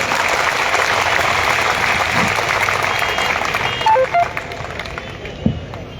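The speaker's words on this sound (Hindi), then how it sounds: "तालियां कमजोर है, माफ करना आप।" Thin, fairly brief applause from the audience at a Rajasthan election campaign meeting for a candidate, steady clapping that thins out toward the end with a few scattered sounds.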